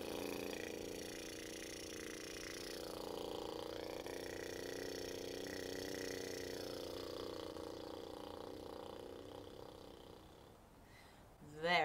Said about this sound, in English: with our exhalation, we're just gonna allow the lips to vibrate